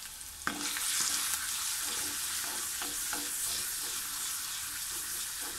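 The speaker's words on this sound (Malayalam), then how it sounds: "വെളിച്ചെണ്ണ ചൂടായപ്പോൾ ഉലുവയിട്ട് പൊട്ടിച്ചിട്ട് നമ്മൾ അരിഞ്ഞു വെച്ചിട്ടുള്ള ചുവന്നുള്ളിയും വെളുത്തുള്ളിയും ഇഞ്ചിയും ഒക്കെ ഇട്ടൊന്ന് വഴട്ടിയെടുക്കുക" Fenugreek, shallots, garlic and ginger sizzle in hot coconut oil with a steady bright frying hiss, plus a sharp clink at the start and occasional stirring knocks. The sound runs close and continuous, with no talk.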